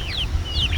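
Backyard poultry, chickens and black turkeys, give two brief high chirping calls over a low rumbling background in a garden.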